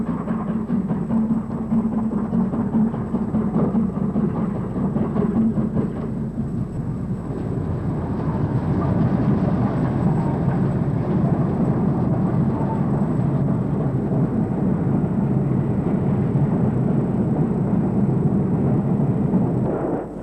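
Steam locomotive King Henry VI rolls into Snow Hill Station, a loud, continuous low rumble and roar that swells slightly midway and holds steady to the end, with no voices.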